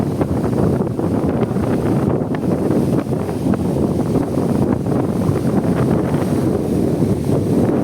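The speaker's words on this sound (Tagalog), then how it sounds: "Lakas ng hangin." Strong wind buffets the microphone at sea beside a small outrigger fishing boat, with waves breaking; a steady, loud, broadband roar runs throughout without pause and without any voices.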